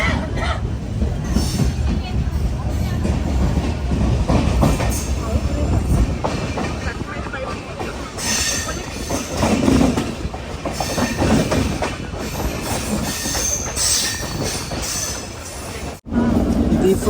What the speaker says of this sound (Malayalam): ഇതാ ദിഫുന്ന് ട്രെയിൻ എടുത്തിരിക്കുകയാണ്.